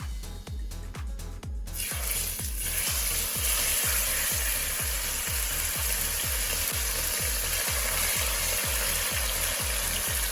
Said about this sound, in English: that's a searing of the meat